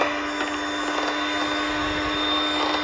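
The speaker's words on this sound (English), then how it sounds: "So I had to do and use only one whisk to beat my eggs." An electric beater fitted with a single whisk whirs steadily and close by as it beats eggs, giving a continuous high motor whine with a strong hum and no talk.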